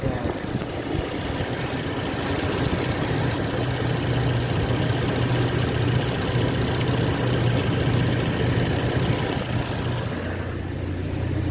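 A Toyota Innova engine with an iForce Ultimate module fitted runs steadily and loud for the whole stretch, a continuous low mechanical drone that holds level without clear rises or pauses.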